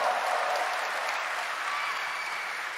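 A large Gamescom 2023 crowd fills the hall with steady, loud, continuous applause and cheering that barely dips across the whole stretch.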